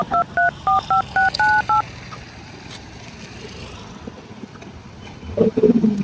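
Phone keypad tones beep in a quick run of about eight short dialing pulses, clear and close, followed by quiet room noise and a faint burst of sound at the end.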